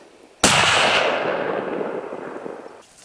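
A rifle shot goes off during a moose hunt by airplane in northern Quebec: one loud, sharp crack that rolls into a long, fading echo, with a low background rumble before and after.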